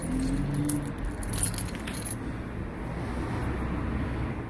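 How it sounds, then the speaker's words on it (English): Suzuki Baleno car keys jangle and clink close by for about two seconds, then fade into faint background hiss. "We've got the keys as well."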